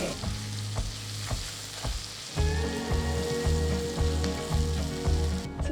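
Spices tempering in hot oil for Andhra gongura dal, a steady crackling sizzle with sharp pops, growing louder and denser partway through as more goes into the pan, with no talking.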